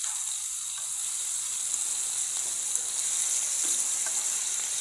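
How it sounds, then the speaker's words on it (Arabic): Chicken pieces sizzle in a very hot pan with a steady, close, bright hiss that runs unbroken and alone, with faint crackles scattered through it. "وسبت الطاسه لما سخنت جامد ونزلت بالفراخ بتاعتي"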